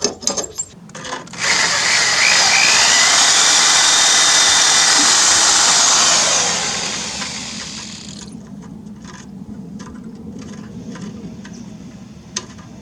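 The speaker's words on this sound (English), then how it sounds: "So I've just drilled 2 holes" A power drill bores holes for a bracket on a Craftsman riding mower during a pulley swap, a loud, close whirring grind that holds for several seconds, then fades into quieter handling noises.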